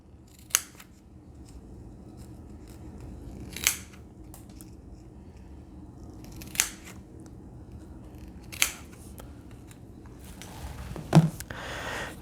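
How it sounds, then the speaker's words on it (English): Scissors snip wedges into kinesio tape for a wrist taping, giving five separate sharp cuts spaced a few seconds apart, close and clear over a quiet background. "we're going to cut these little wedges again"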